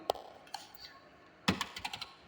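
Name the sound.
typing a search into Google on a computer keyboard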